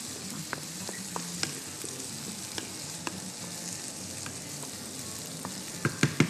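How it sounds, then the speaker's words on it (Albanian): Onion and pepper fry in a pan with a constant crackling sizzle, dotted with small pops and utensil taps, growing to a few louder clacks of stirring at the end. "I përzjem pak sa të skuqen qepa dhe speci së bashku."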